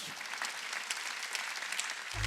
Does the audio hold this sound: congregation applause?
yes